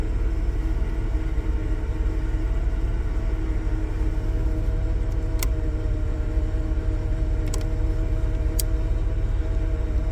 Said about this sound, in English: Muffler definitely sounds like it's got a screw loose.